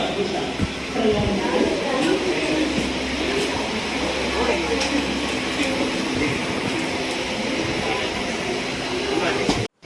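Steady low rumble and rattle inside a moving train carriage, with faint voices in the background throughout.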